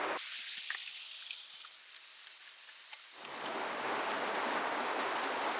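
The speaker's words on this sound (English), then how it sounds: "it is absolutely pouring with rain" Heavy rain pouring down outdoors, a dense loud hiss that swells and thickens partway through, steady and close with no voices.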